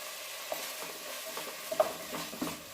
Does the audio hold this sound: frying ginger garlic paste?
yes